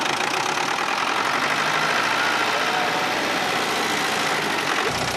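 A steady old tractor engine drones and idles throughout, loud and close, with a rough mechanical rattle and no voices.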